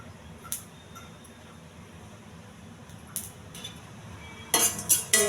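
Chana dal frying in a little oil in a pan while a spatula stirs it, giving sparse, soft metallic clinks over a quiet background, with a brisker cluster of clinks and scrapes near the end.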